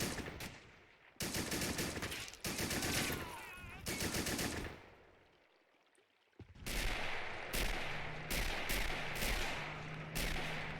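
Rapid bursts of machine gun fire from heavy emplaced guns in a World War II style video game beach assault, loud and sustained in long volleys with a brief lull before more shots crackle and echo.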